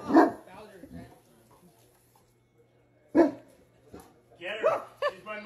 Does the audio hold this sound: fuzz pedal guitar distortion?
no